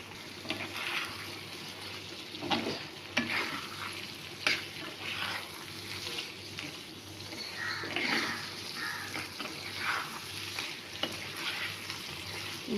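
Prawns frying in a pan with a steady broadband sizzle and repeated scraping stirs of a spatula, the hiss rising and falling as they are turned, heard close with no talking.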